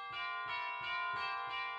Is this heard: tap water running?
no